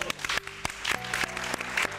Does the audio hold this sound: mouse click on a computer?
no